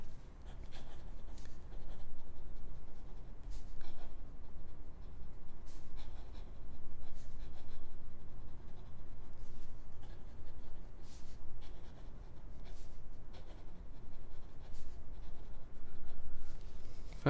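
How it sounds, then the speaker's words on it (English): A Wörther Profil fountain pen writing quickly on paper: a close, steady scratching of fast strokes with brief pauses, no talking. "Fast writing."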